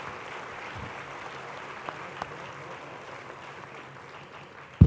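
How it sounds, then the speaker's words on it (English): Guests at a lifetime achievement awards dinner give a soft, steady round of applause in a banquet room, faint and even with a few sharper claps, ending in a sudden close bump. "I'd appreciate if y'all would join me in a warm round of applause for Dr. Van Buren"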